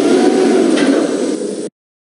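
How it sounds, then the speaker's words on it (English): Doors of a Schindler 5400AP elevator slide open with a brief, steady mechanical rumble and whir close by, ending abruptly; no one speaks. "Doors open."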